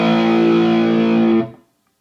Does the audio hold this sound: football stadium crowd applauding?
no